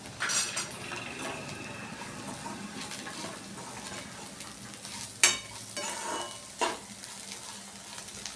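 Spiced okra (bhindi) fries in an uncovered pan with salt added, giving a continuous close sizzle and crackle broken by occasional scraping stirs and a couple of sharp utensil knocks against the pan, with no talking.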